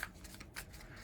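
A tarot deck being shuffled by hand, with quick papery riffling bursts of cards close up and no voices.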